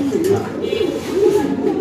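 A male white Mundian pigeon coos in low, rolling throaty calls, close by, with a faint chirp in the background.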